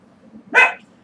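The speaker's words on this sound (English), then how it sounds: "Sorry about the dog." A single sharp bark from a dog indoors, short and moderately loud against a quiet room.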